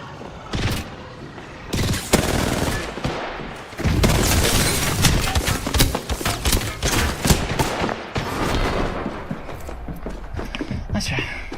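Rapid bursts of gunfire from Apex Legends during a Diamond-rank practice session, dense and loud across the whole stretch, with repeated sharp shots and booming impacts, and a voice talking under them at times.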